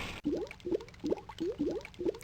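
A voice imitates water bubbling as a character sinks into the sea in the King's Quest 6 adventure game, giving six evenly spaced, gurgling 'gloop' syllables close up.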